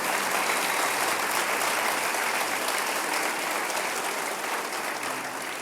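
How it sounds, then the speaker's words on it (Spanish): Dense, steady applause from a church congregation at a Christian sermon, a continuous wash of many hands clapping that holds loud throughout and eases slightly at the end. "Denle un aplauso a esta palabra"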